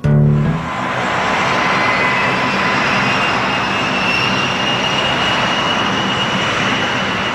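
Jet engine roar from an A-10 attack aircraft, a loud, steady broadband drone that holds for the whole stretch after a brief low rumble at the start, with no talk over it.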